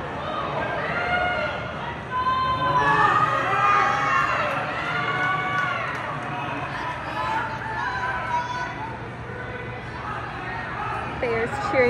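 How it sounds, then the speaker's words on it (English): Spectators at an indoor 3K track race cheer and shout for a runner, a steady loud roar of many voices with high excited yells and children's shouts throughout. "Cheering Marcos on."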